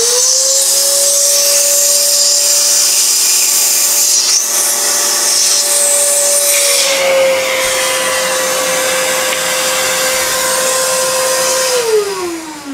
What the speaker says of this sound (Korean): 이쪽에서 진공청소기로 빨아들일 거예요. 좀 시끄러울 거예요.